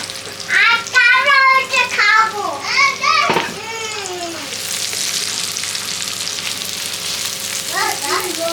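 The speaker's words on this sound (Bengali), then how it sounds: "এখন পেঁয়াজটা ভেজে নেবে এরকম করে।" Onion frying in hot oil for restaurant-style chicken and egg Hakka noodles, a steady loud hiss of sizzling that swells after someone speaks over the pan at the start.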